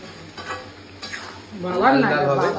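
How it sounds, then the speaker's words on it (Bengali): A cauliflower curry is stirred in a pan with scraping and light clinks over a soft sizzle, building louder toward the end where a voice briefly rises above it. "এই যে ফুলকপি কিন্তু জমিয়ে রান্না চলছে, একদম জমিয়ে কচিয়ে রসিয়ে।"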